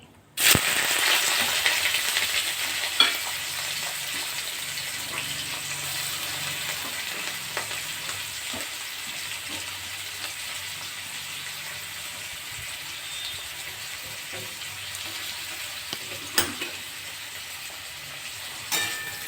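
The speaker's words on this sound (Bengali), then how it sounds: "এবারে পেঁয়াজগুলো গরম তেলে দিয়ে দিচ্ছি" Onions frying in hot oil with bay leaf, garam masala and dried chillies in a pan, a steady loud hiss and sizzle with occasional pops and scrapes throughout.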